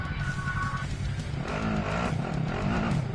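A car engine drones steadily in a video game as the vehicle is driven, with rising and falling engine tones and some tire noise, loud and continuous throughout.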